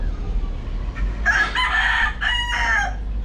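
A rooster crows once nearby, a loud drawn-out call in broken segments, over a low background hum.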